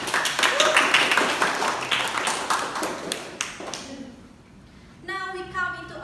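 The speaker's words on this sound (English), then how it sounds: "let's give a big and rousing applause for all the educators and debaters in here" Audience applause at an English debating competition, a loud burst of many hands clapping that fades out after about three seconds, with a voice speaking near the end.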